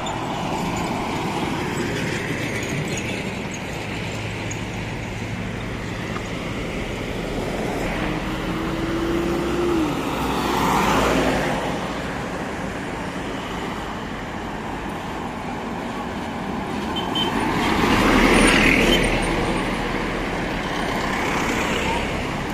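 Steady highway traffic roars along the Davao City diversion road near the crocodile farm, with cars and trucks rumbling past, two heavier vehicles swelling louder as they pass close, and people talking over the road noise.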